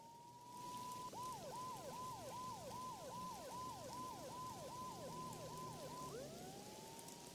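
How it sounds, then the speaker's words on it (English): Police siren in the game Max Payne, a rapid repeating whoop cycling about a dozen times at moderate distance, sounding over steady rainfall that fills the whole scene, with no talking. "Mona must have heard the sirens too"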